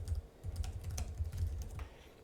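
Keystrokes on an Alienware M16 R2 laptop keyboard, with snappy keys: quiet, quick taps in a steady typing rhythm, close up and alone.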